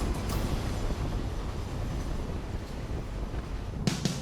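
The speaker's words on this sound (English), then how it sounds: "The northbound train is approaching the halfway point in its 27-hour journey." Steady low rumble of a train rolling along the rails, a continuous dense roar with faint rhythmic clatter and a brief brighter burst near the end.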